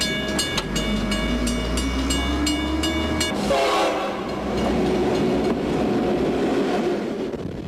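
A freight train rolls through a small West Michigan town, its horn sounding in repeated loud blasts at first, then the steady rumble and rattle of the railcars carrying on continuously close by.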